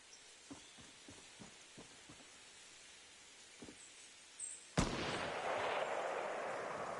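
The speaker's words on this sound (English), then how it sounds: "Shooting by somebody over there." Gunfire in the video game DC Universe Online: several faint, distant shots spaced out in a loose rhythm, then a sudden loud blast that gives way to a sustained roaring wash of noise.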